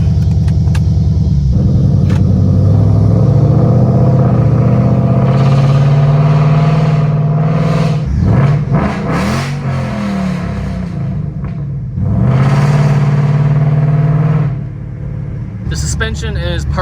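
Ford Mustang 5.0 GT V8 engine rumbling close and loud, revving up and easing back several times over a steady idle, with a voice talking over it.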